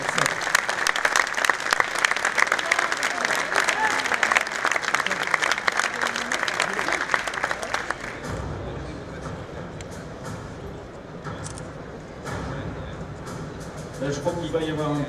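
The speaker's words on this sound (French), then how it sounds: "il ne manque une nouvelle fois que les applaudissements" Sustained, close applause with crowd noise rises for a Breton bakery team at the 2015 Sirha Coupe de France de la boulangerie, then fades as a voice begins talking over the hall.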